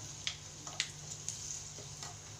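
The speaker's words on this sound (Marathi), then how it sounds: "आणि थोडीशी हळद आणि थोडंसं मीठ हे चांगले आपण मसाले तेलामध्ये छान ह्याला परतून देऊ" Red chili powder, turmeric, salt and spices fry in oil for tomato chutney, a faint, soft, steady sizzle with a few light clicks and scrapes of stirring, without any talk.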